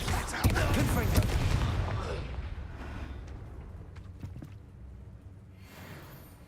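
Confringo spell blasts in the Hogwarts Legacy game burst out loudly at first in a crackling cluster, then fade into quieter rumbling effects.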